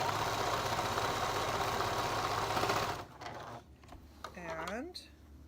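A sewing machine runs steadily for about three seconds while a hole in a pair of kids' reversible pants is sewn shut. Its close, loud whir then stops, leaving quieter handling noises and a voice talking.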